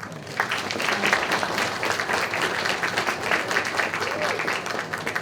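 A roomful of people at a school board meeting applauds, dense sustained clapping from a crowd, fairly close and steady, with faint voices mixed underneath.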